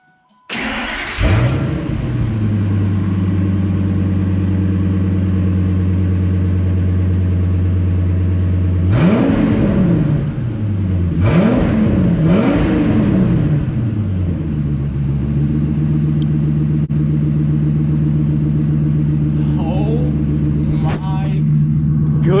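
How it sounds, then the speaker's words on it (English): A loud Ford Excursion engine, exhaust cut off behind the catalytic converter, starts, idles with a rough, raspy note, then revs sharply several times before settling back into a steady idle. "Let's see what it sounds like just cut at the back of the catalytic converter here."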